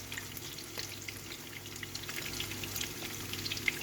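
Fish sizzles in a hot frying pan, a steady crackling fry with scattered pops and spits, moderately loud and continuous, no voices.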